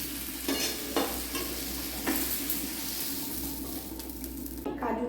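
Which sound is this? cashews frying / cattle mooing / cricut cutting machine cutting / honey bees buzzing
cashews frying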